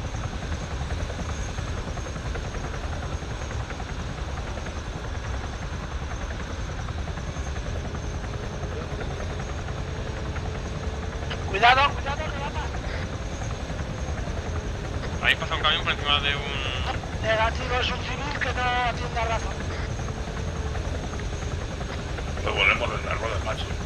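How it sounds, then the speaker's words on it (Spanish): A helicopter left running in ARMA 3 gameplay gives a steady engine and rotor drone throughout, with game voices and radio chatter in short bursts over it. "Piloto, deje el helicóptero encendido."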